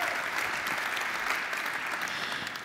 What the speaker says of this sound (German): Und dafür gibt es auch heute noch einen großen Applaus.